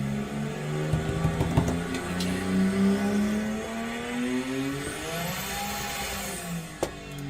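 A Subaru EG33 flat-six engine revs up and falls back with rising, sliding harmonics, loud and fairly close, with no talk over it.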